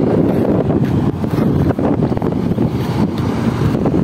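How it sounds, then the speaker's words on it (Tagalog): Strong wind roars steadily across the microphone at a gas station in Bacarra, Ilocos Norte, a dense, rumbling gust with no letup and no voices. "Lakas ng hangin."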